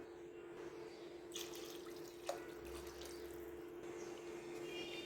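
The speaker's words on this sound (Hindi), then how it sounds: "तो पानी हम यहाँ पर ऐड करेंगे 2 कप।" Two cups of water run steadily into a pot of rice and chana at close range, a soft continuous pouring with a brief clink partway through, no voices.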